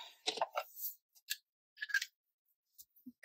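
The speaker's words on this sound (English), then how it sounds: "See, scissors, they seem to not stick as bad." Several short, crisp snips of scissors cutting through paper, irregularly spaced and close, in an otherwise quiet room.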